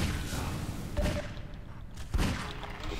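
Gunfire in Half-Life 2: Episode Two, with a string of shots and two sharper, louder reports standing out against ongoing game noise.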